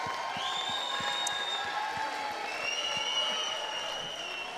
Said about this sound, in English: So huge round of applause from the audience